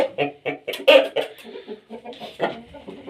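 A fighting rooster clucks and squawks in short, uneven bursts close by, with brief pauses between calls.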